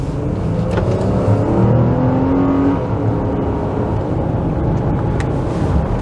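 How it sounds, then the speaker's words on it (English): A 2022 Infiniti QX60 SUV accelerates, a steady, muffled engine drone with rising whining tones, heard from inside the cabin, continuous and fairly loud with no talking. "And we're gonna just accelerate right here."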